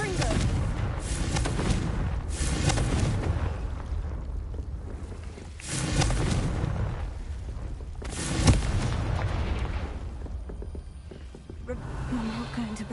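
Fiery explosions from the Confringo blasting spell in Hogwarts Legacy burst loudly several times at irregular intervals over continuous game ambience and music.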